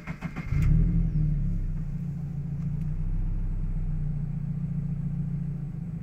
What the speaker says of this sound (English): So we're just starting the car up